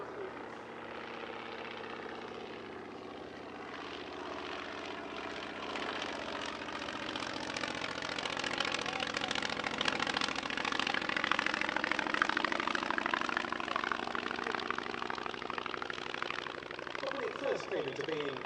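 A Polikarpov Po-2, a Soviet-origin biplane from 1929, drones past at the Shuttleworth family airshow, its propeller engine a steady buzzing hum that swells gradually louder toward the middle and stays strong to the end.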